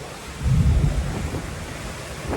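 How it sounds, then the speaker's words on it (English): Thunder rumbles during a storm at sea aboard a small boat off Marathon, Florida, a single deep, loud roll that swells and fades amid wind and rain noise. "And that's thunder."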